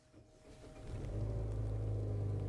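A 2021 Mazda CX-30 engine cranks and catches, quickly rising to a steady, smooth idle hum that continues at a moderate, close level with no talking.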